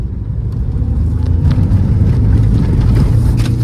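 A Mahindra tractor engine roars close and loud, a steady deep rumble rising slightly in intensity as it accelerates.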